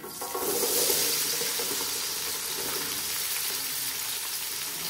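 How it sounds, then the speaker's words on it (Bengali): Chopped onions and a bay leaf dropped into hot oil, a sudden burst of hissing sizzle that swells within the first second, then holds as a steady, close frying hiss with no voices. "তেলটা দেওয়ার পর এখানে দিয়ে দিব এটা তেজপাতা। এরপর এখানে দিয়ে দিব, শুরুতেই দিয়ে দিব আমি পেঁয়াজ কুচি।"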